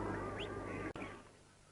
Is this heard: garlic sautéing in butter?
no